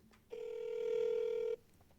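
A single phone ring tone, steady and clear, lasting just over a second on an outgoing call to an ElevenLabs voice agent, with quiet silence on either side.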